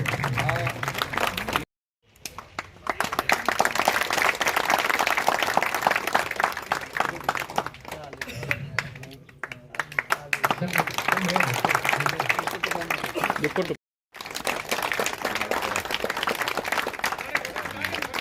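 Sustained crowd clapping at a BJP ward office inauguration in Jaisalmer, continuous and fairly loud over a long stretch, with brief gaps and voices talking within it.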